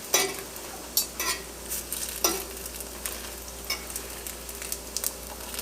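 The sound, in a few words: French toast sausage rolls frying in a pan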